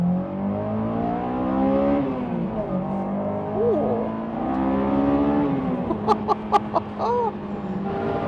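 Race cars on a track with a GT3 flying past: engines rev and shift with rising and falling tones close by, followed by a burst of sharp high-pitched squeals near the end; no speech.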